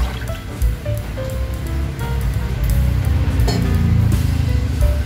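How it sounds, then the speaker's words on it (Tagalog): Second coconut milk poured into a pan over a lit stove for cooking santol, a continuous close gurgling, splashing liquid rush that grows slightly louder as the pour continues. "Ilalagay na natin yung ating pangalawang gata."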